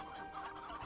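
Brief burst of chicken clucking in the Slime Rancher 2 video game, a short close flurry of fowl sounds with no talk.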